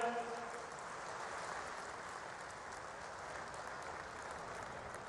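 Audience applause at a Gandhinagar, Gujarat education association convention welcoming the Prime Minister, steady and dense throughout, moderately loud.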